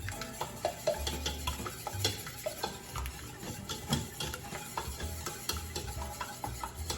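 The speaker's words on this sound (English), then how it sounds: "We're gonna get our whisk and just whisk that in" An egg being whisked into a mixture in a bowl for pfeffernüsse cookie dough, giving rapid irregular clicking and scraping strokes of the whisk against the bowl, close and moderately quiet, with no talking.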